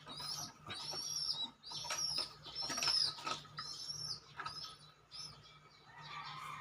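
Pigeons kept near a nest with young, with soft wing flaps and faint bird sounds in repeated bursts, heard close but quiet.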